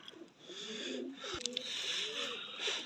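Teddy pigeons coo in a soft, rolling series of low calls, near and moderately quiet, with a light tap midway and no talk.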